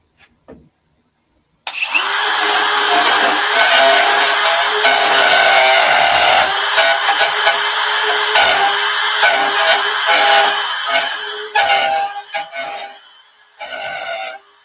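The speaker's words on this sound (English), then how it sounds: "I'm using the router bit to just freehand" A router bit cuts freehand into a wooden cutting board, starting abruptly after a moment of near silence and holding a loud, continuous high whine with shifting grinding texture before briefly dropping out near the end.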